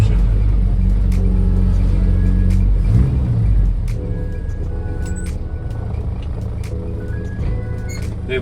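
A car driving on the road, a steady low engine and tyre rumble heard from inside the cabin, with faint clicks and small tonal beeps over the continuous drone.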